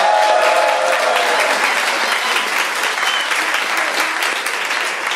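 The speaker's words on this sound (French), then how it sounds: "J'ai besoin de vos applaudissements." A studio audience breaks into loud, continuous applause, a thick close-up wall of clapping with some faint whoops at the start, steady and unbroken to the end.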